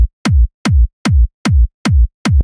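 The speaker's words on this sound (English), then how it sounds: "So only the kick sounds like this." Six punchy electronic kick drums from a trance track thump alone at an even pace, each with a crisp click on top and a short booming low tail.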